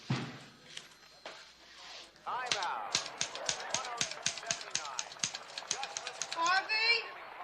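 Rapid clacking keystrokes of a typewriter strike in a quick, uneven rhythm, each sharp tap close and distinct, with a carriage-like zip near the end, following some quiet speech and background sounds at the start.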